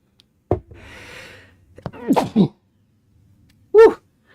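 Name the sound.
sneeze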